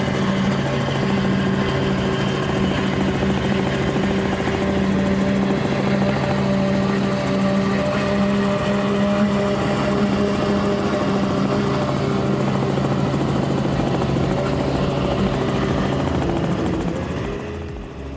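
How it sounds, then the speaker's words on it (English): V10 stern-drive catamaran racing powerboat engines in a poker run off Key West, recorded from a helicopter: a loud, steady, layered drone that fades at the end. "I wanted you guys to hear those V10s because it certainly does have a unique sound"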